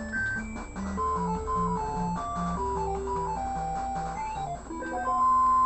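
Chiptune sound-test music from the NES game Astyanax, a bouncy synthesized melody over a steady stepping bassline, continuous and fairly loud with no talking.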